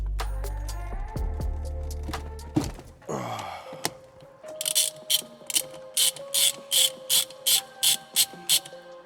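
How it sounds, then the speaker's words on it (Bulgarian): A ratchet wrench loosens the 17 mm center bolt of a BMW E36 steering wheel with the wheel locked, starting with heavy clunks and a grinding turn, then settling into a quick run of about a dozen sharp, regular clicks, close and clear. "Централният болт е камък 17. Сега ще развия и него."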